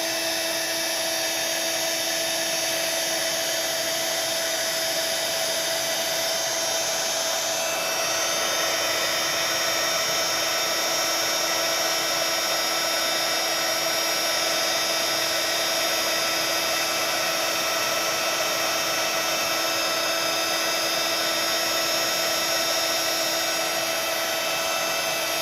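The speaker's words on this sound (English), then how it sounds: "I'm using this Wow embossing gun as opposed to my Ranger one, specifically formulated for heat embossing" A Wow heat embossing gun runs continuously to melt embossing powder, giving a steady, loud, high-pitched whine and rushing airflow with no break for the whole stretch.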